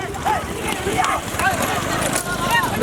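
Bulls' hooves clatter in a quick irregular rhythm during a small-bull cart race, with a voice talking over the pounding throughout.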